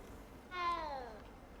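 A calico cat in Hogwarts Legacy gives a single clear meow, rising then sliding down, fairly close against a faint game background with no talk.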